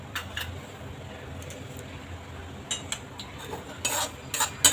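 Semolina roasts in ghee in a pan, stirred with a spoon that gives soft scraping sounds and several sharper clinks against the pan over a faint sizzle, fairly quiet and close.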